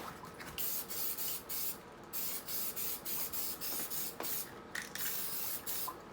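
Short bursts from a spray can coat a Mercedes Sprinter steering wheel, a dozen or so even hisses in a steady rhythm, close and moderately loud.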